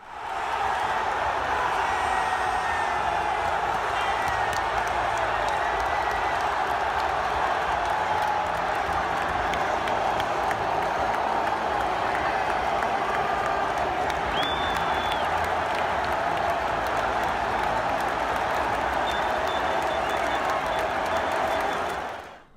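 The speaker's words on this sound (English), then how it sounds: "when they finally scored their first goal, the crowd reaction was this." A packed stadium crowd in Milan roars after an Inter Milan goal, a dense, sustained wash of cheering, shouting and clapping that holds steady and loud throughout.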